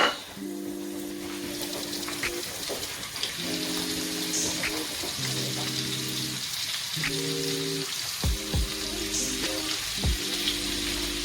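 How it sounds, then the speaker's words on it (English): Butter melting in olive oil in a pan, a soft steady sizzle with crackling pops running throughout, faint and continuous, while background tones play underneath. "Then I'll add my butter, which I already got a small piece there, and wait for that to melt."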